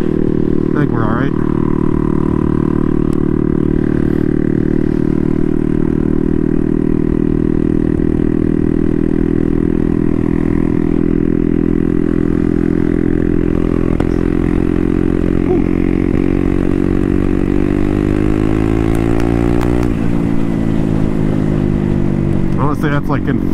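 A Honda Grom motorcycle with a turbocharged CBR engine swap is ridden, its loud, steady engine drone rising in pitch under acceleration, then briefly dropping at a shift before climbing again, under heavy wind noise.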